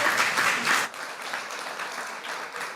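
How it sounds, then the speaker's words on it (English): An audience at a youth civic participation forum breaks into applause, dense clapping that is loud for the first second, then eases into a softer, steady patter that carries on to the end. "Okay, now we can applaud"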